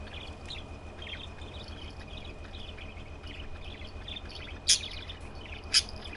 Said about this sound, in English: Funny bird.